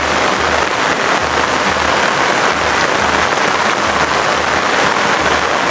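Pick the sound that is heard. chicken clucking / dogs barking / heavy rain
heavy rain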